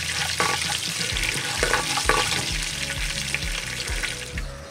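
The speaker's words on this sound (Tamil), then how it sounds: "கடுகை வந்து நல்லா வெடிக்கும் வரைக்கும் தாளிப்போம்." Mustard seeds splutter in hot ghee: continuous crackling sizzle with scattered small pops and a low scraping stir underneath, close and fairly loud.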